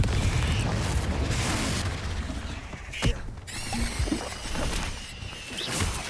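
A Confringo spell explosion from Hogwarts Legacy bursts loudly over a dense wash of game noise, with a sharp blast near the middle followed by rumbling debris and mechanical clatter.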